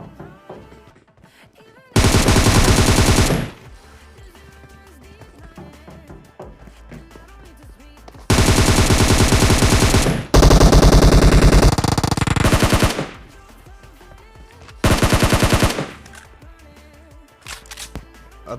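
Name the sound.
gunfire during a fight in the video game PUBG Mobile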